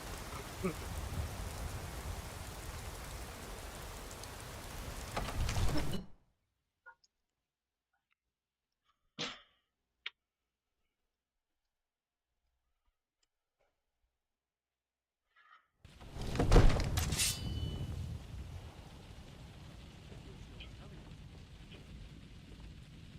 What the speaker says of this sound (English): Then raining non-stop.